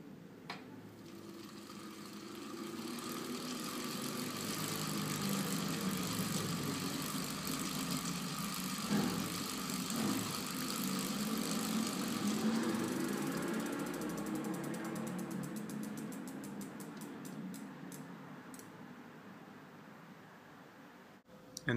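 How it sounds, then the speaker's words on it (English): A bicycle rear wheel with a Sunup dynamo hub spins, producing a continuous mechanical ratcheting whir with a low droning hum that swells and fades, ending in quickening clicks as the wheel slows. "Now this is the sound of the rear wheel with the Sunup dyno hub installed."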